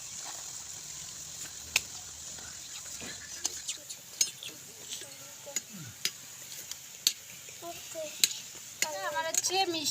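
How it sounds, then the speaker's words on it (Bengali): Semolina gulab jamun balls fry in oil with a low, even sizzle, broken by scattered clicks and taps of a utensil against the pan, and a brief voice near the end. "এখন আমি এগুলোকে ভেজে তারপরে হচ্ছে মিষ্টির রসে দেব"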